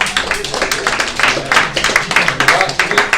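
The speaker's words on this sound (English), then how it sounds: "Give these guys a round of applause for showing up." A small gathering claps for guests who showed up, a short burst of fairly close, uneven clapping with talk-like sounds mixed in.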